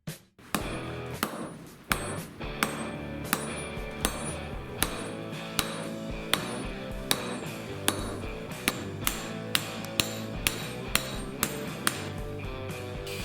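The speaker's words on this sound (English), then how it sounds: "We forge the head of the hammer into an axe." Steel mason's hammer head being forged into an axe: evenly spaced ringing hammer blows on hot metal and anvil, about one per second, loud and close with a clanging metallic ring throughout.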